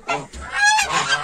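Geese honk at a farm where chickens and turkeys are also kept, a burst of loud nasal calls close by that overlap one another for a moment.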